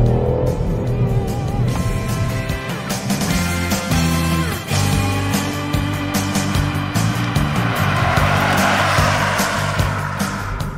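A Ford Fiesta ST Line with a three-cylinder engine drives steadily, its loud, continuous engine note rising and falling with throttle across the whole stretch, with no talking over it.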